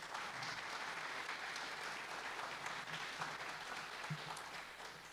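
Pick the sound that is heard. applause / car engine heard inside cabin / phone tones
applause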